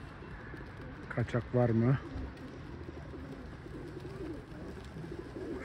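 A pigeon gives a short series of throaty coos close by, with quiet talking in the background.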